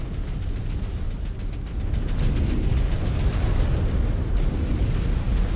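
A missile explosion in the video game MechWarrior 5: Clans as a loud, sustained rumbling roar of blast and debris, swelling partway through and staying dense and continuous with no talk over it.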